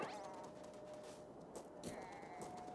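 A sheep in Super Mario Odyssey bleats in a few wavering calls, quiet and set against soft game music.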